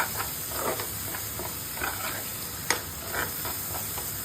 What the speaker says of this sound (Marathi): पाच मिनिटं आपण तेलात परतून घेऊया